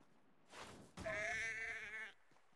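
A single sheep in the Assassin's Creed Mirage game lets out a short breathy note, then a longer wavering bleat lasting about a second, close and clear against quiet surroundings.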